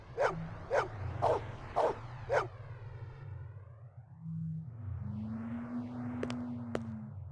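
A dog in the Blade Runner video game barks in four quick, loud yaps, followed by synthetic electronic sweeps and a steady tone against a low background hum.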